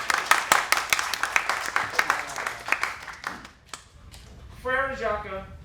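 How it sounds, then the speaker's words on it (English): A small audience at a sketch night claps in uneven, distinct individual hand claps that thin out, then a voice speaks over the tail end. "Give her a round of applause."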